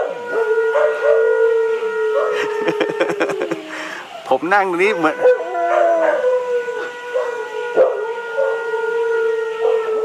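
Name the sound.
dog howling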